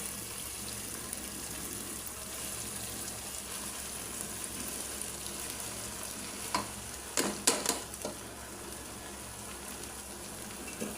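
Cooled rice being stir-fried with vegetables, salt and oil in a pan for Chinese-style fried rice: a steady sizzle and scraping of the spatula, with a few louder clanking stirs near the end and no talking.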